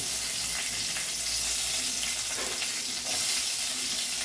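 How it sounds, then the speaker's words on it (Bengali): Onion and capsicum sizzle steadily in oil left from frying paneer, a constant bright hiss close by, with faint clatter now and then. "পনির ভাজার তেলেই দিয়ে দিচ্ছি পেঁয়াজ আর ক্যাপসিকাম"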